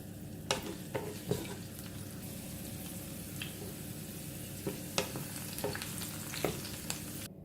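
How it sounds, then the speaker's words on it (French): Garlic fries gently in oil, giving a continuous soft sizzle with occasional sharp taps and scrapes of a utensil in the pan. "on va commencer par faire revenir l'ail et l'huile"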